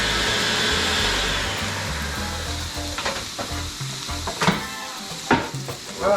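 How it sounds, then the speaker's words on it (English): Peppers sizzle loudly in hot oil in a Le Creuset pan, a steady broadband frying hiss with a few sharper crackles and pops toward the end. "Put a little bit more oil in there, another tablespoon. Put our peppers in."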